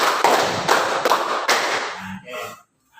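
A class of students claps in unison on a teacher's count, five brisk loud group claps in steady rhythm, fading into a few stray claps and murmuring voices.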